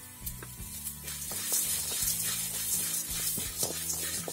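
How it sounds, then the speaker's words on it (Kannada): Chopped garlic and ginger frying in a pan for chicken sukka, a steady close sizzle with crackling pops and the clink of stirring throughout, no voices. "ಚೆನ್ನಾಗಿ ಫ್ರೈ ಆಗಬೇಕು."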